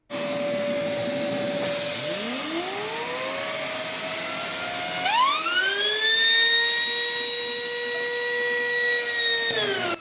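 A Lego vacuum engine spins up to about 30,000 RPM, its loud piercing whine sweeping upward in pitch, settling, then surging higher again into a steady shrill scream before cutting off.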